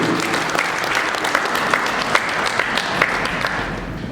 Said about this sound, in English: you also deserve a round of applause. So come on, give it up for yourself.